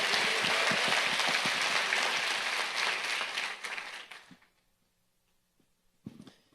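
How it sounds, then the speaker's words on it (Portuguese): A church congregation claps together during a worship service, a dense, loud burst of applause that fades out after about four seconds, leaving near silence and then one brief knock. "E todo o povo dá aplauso ao Senhor"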